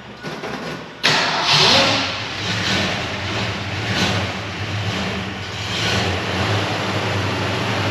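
A car engine cranks and fires abruptly in a busy Porsche workshop, then settles into a loud, close, uneven idle with slight revving swells.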